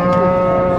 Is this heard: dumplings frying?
no